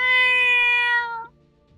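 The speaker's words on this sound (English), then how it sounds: "I got a meow as well. I have a meow." A cat gives one long, loud, close meow that trails off into near silence.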